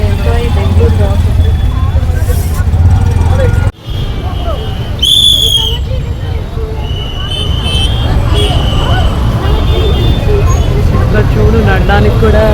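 Busy Bangalore street traffic on a crowded holiday, with engines and vehicle hum rumbling continuously, a brief sharp whistle or horn burst midway, and people talking over the din.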